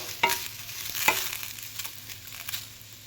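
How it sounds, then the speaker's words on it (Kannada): Cumin seeds and a sprig of curry leaves fry in a hot pan, giving a soft steady sizzle with a few stirring scrapes, close and fairly quiet, with no talking. "ಇದ್ರ ಜೊತೆಗೇ ಒಂದು ಎಸಳು ಕರಿಬೇವನ್ನು ಕೂಡ ಹಾಕಿ ಬಿಸಿ ಮಾಡ್ತಾಯಿದ್ದೀನಿ"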